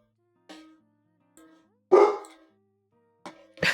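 Several loud dog barks arrive in separate bursts with silent gaps between them, sounding fairly close and heard without any talk.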